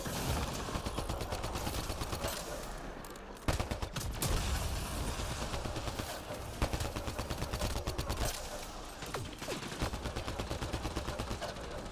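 A turret fires steadily in Mass Effect Andromeda, a loud, continuous stream of rapid, evenly paced shots with a heavy impact around a third of the way through, persisting throughout with little break.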